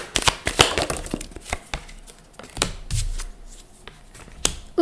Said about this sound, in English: Just going to grab the cards.